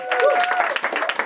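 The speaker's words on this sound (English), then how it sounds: "Can we give Joanna a round of applause as well?" A short burst of clapping from a small group of wedding guests during the speeches, fairly close, with a voice speaking over it.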